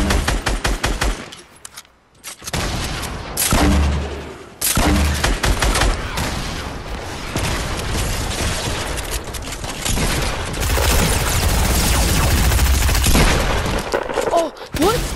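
Rapid gunfire in a shooter video game, loud bursts of automatic fire and booms that run almost nonstop, with brief drop-outs early on and players talking over the action.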